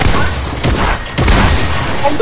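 Rapid video game gunfire crackles in loud, dense bursts with a couple of heavier thumps, filling the whole stretch.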